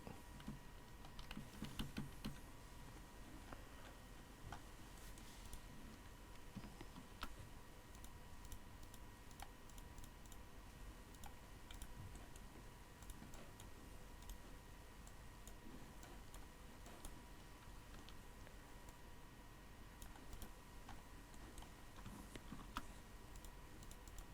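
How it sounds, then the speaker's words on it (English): Computer keyboard typing during rotoscoping work, faint scattered key clicks in uneven bursts over a quiet background hum, with no talk. "you need to use the keyboard"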